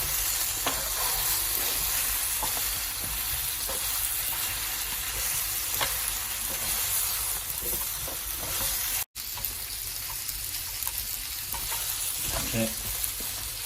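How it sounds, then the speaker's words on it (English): Potatoes and carrots fry in hot oil as a chicken curry comes together, a steady loud sizzle with scraping stirs and occasional clinks throughout, a brief dropout near the middle. "So now I'm going to mix everything so the potatoes and carrots get covered by the oil"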